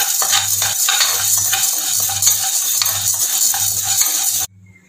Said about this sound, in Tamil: கடலப்பருப்பு, துவரம்பருப்பு இது ரெண்டையும் சேர்த்து நல்லா வறுத்துக்கலாம்.